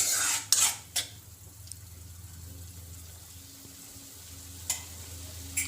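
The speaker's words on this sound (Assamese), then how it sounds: "এতিয়া অলপ ভালকৈ লৰাই দিছোঁ" Carrot halwa being stirred in a pan, a few sharp spoon scrapes near the start and again later over a low, steady simmering bubble and faint background hum.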